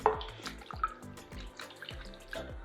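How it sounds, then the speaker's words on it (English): Potato slices rinsed in a sink of water for a second wash before frying into thin crisps, with repeated splashes, drips and sloshing in an irregular rhythm, close and moderately loud. "now I am going to wash this again for the second time"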